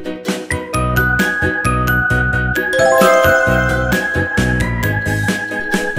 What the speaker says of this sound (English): B for bell.